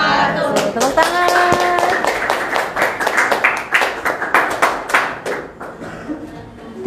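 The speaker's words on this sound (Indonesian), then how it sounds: "Tepuk tangan." A classroom of students claps after a group presentation, close and lively with dense, uneven hand claps that build and then thin out, while a brief tone and some voices rise underneath.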